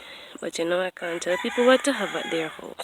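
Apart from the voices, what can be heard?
neighbours' chickens clucking and crowing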